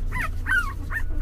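Newborn puppies from a litter of seven whimpering, three short high rising-falling whines in quick succession, close and clear over a low background hum.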